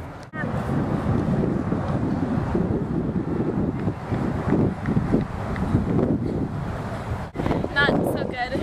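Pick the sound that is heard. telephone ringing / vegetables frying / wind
wind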